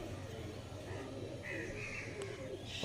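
Punjabi pigeons coo softly and faintly in a loft, with a low murmur of background noise around them.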